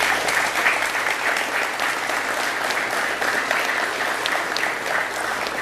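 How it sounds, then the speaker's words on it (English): Audience applause at a justice minister's public address, a dense, even wash of clapping from a crowd, sustained throughout without talk. "Give yourselves a round of applause for that."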